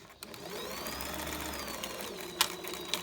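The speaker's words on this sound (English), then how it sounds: "we're going to sew along there and then press that open" A sewing machine stitching a seam along a 1 cm seam allowance, running as a steady mechanical whir at moderate level, with a few faint clicks near the end.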